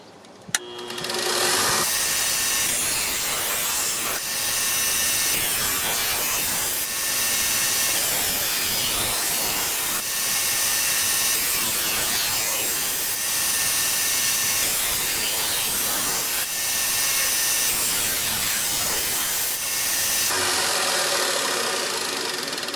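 A belt grinder runs with a 120 grit belt, sharpening a dull, nicked knife blade. The grinding is loud and steady, continuous for about twenty seconds, and no one speaks.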